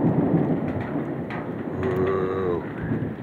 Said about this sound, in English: Ooh, that sounds awesome. I love a good thunderstorm.